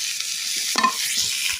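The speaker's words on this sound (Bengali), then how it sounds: "আর এইগুলো লাল লাল করে ভেজে নিব" Oil sizzles steadily as chili, onion and garlic fry, with a brief clatter of stirring in the middle; no voices.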